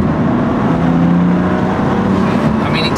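BMW M2 Competition engine with an Eventuri carbon air intake, a loud, sustained deep drone with steady engine tones close up, holding at a constant level throughout.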